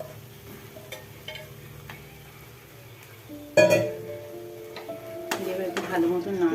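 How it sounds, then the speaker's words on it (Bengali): Taro pieces and chana dal stirred into an oily spice masala over a medium-high flame, with soft ticks and scrapes of a spatula, a louder clatter midway, and a voice speaking over the cooking sounds. "এবার একটু ভালো মতন নাড়াচাড়া করবো।"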